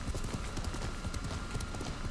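A horse's hooves clip-clop in the video game Ghost of Tsushima, a fast, steady, close drumming of hoofbeats that continues without a break.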